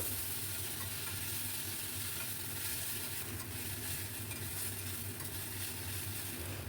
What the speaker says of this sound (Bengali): পেঁয়াজ কুচি খুব লাল লাল করে ভেজে নিয়ে পুরো আদা, কাঁচা লঙ্কা, টমেটো আর রসুনের পেস্ট দিয়ে দিলাম।